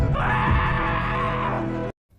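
A man who has just been stabbed in the right eye lets out one long, loud, anguished scream at close range, holding for nearly two seconds before it cuts off abruptly.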